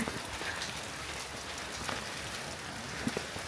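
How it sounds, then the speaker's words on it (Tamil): Rain falls at night on a mountain path to Sri Pada, a steady hiss of drops with a few brief clicks and spatters, no voices. "இரவு நேரத்தில் மழை வர பெய்யுது"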